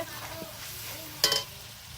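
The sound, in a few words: chicken meat being stirred and fried for biryani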